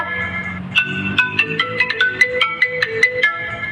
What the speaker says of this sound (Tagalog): Kung sino nga dyan, pakisagot nga yung cellphone ko.